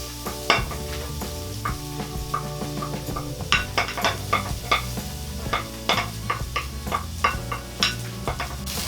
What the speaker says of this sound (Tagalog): Ngayon po ay igigisa na natin tong bawang.